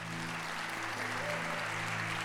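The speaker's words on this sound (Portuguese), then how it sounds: "Então aplauda ao Senhor" Church congregation applauding during a service, a steady wash of clapping over a low sustained organ or keyboard chord with faint melodic notes.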